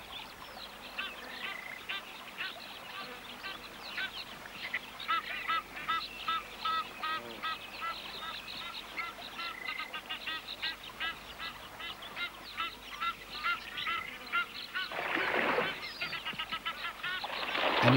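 An Egyptian goose honks repeatedly at a waterside where a python lurks, giving a long run of rhythmic, nasal calls with other waterfowl faintly behind and a louder burst near the end.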